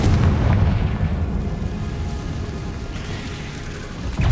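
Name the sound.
Confringo fire spell explosion in Hogwarts Legacy, from a video game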